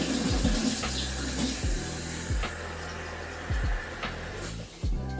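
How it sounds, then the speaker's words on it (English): A kitchen tap runs water to rinse fish, a steady splashing flow broken by a few sharp clunks and knocks, close and moderately loud. "add some water."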